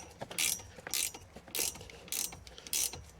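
A ratchet tightens the K-brace bolts on a Renault Clio 182 Trophy, with five evenly spaced bursts of quick clicking, close and moderately loud, over quiet background.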